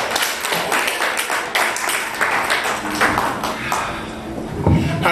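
A comedy club crowd claps and cheers as comedian William P. Lewis takes the stage. The applause is continuous and fairly loud, with scattered voices and whoops, and a louder burst near the end.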